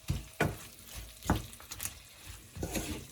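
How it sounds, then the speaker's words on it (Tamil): A prawn fry with coconut milk is stirred in the pan after lemon juice goes in. About four distinct stirring strokes scrape through a soft, moderate sizzle, with no talking. "இப்போ விட்டுட்டு இதை நல்லா மிக்ஸ் பண்ணி விடுவோம்."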